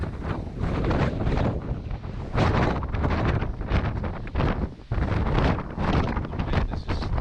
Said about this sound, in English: The wind is just whipping like crazy.